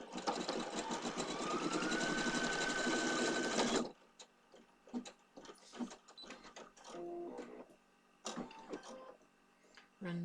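A sewing machine stitches a sock in one loud, steady run lasting almost four seconds, then stops, leaving scattered handling clicks and faint rustling.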